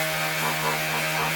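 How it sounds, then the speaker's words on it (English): Power sander working a hard maple guitar body pocket, a steady close whine with a strong humming tone throughout the short burst, no voices. "I'm sanding my pocket because I had to use a grinder on this hard maple."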